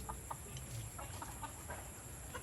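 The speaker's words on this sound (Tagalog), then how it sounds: "Manok." Several short chicken clucks scattered over steady background noise, some faint and distant, with no talking.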